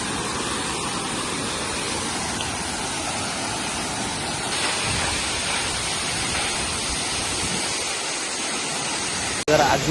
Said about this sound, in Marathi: एकदम जवळनं बघूया आपण धबधबा.